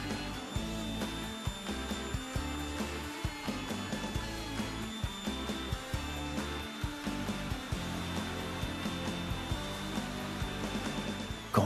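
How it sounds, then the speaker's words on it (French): A wood router fitted with a moulding bit rounds over the edges of a test board, giving a steady, loud high-pitched whine with continuous cutting roughness and small surges as it moves along the edge, heard alone without talk. "Prenez simplement une planche et arrondissez les bords à l'aide de la défonceuse."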